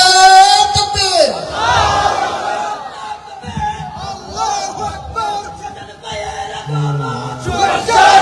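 A crowd at an Islamic gathering shouts Allahu Akbar together in reply to a Nara-e-Takbir call, a loud, sustained group chant with several surging voices.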